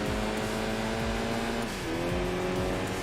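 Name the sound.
Toyota MR-2 car engine, from Enthusia Professional Racing video game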